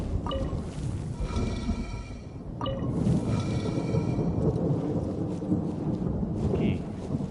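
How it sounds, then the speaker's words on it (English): Lightning strikes and rolling thunder in the video game Genshin Impact: two sharp cracks followed by a continuous, rumbling storm bed with rain-like hiss throughout, no voices. "Don't stand too close to me, or you might get hit by lightning too."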